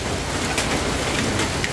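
Heavy rain pours steadily in a rural village, a dense, loud, even hiss with a few sharper drop splashes, and no voices.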